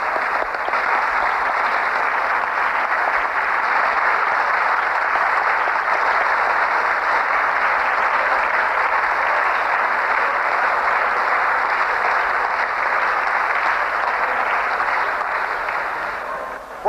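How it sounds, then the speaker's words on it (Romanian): Sustained, dense applause of approval fills the Moldovan parliament chamber after the vote on the state anthem, steady and loud for the whole stretch before tapering slightly at the end. "Aplauzul de aprobare."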